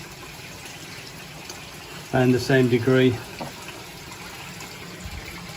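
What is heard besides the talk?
water slowly added into koi pond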